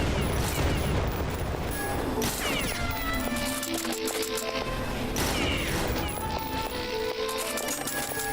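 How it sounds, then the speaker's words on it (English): Classic assault rifle firing in a video game, rapid continuous bursts layered with game music and clattering effects, loud and busy throughout. "Classic assault rifle."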